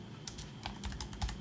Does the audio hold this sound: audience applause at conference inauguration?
no